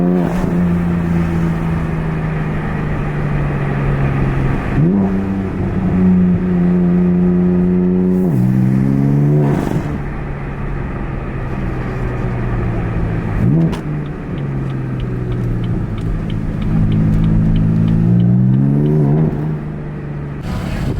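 BMW F80 with boost-related mods accelerates and revs repeatedly, loud close engine pulls rising in pitch with gear shifts between them, running alone.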